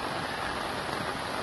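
Steady rain pours down outdoors during a sailing expedition on the lagoons of Santa Catarina, a dense, continuous hiss filling the whole moment without any voices.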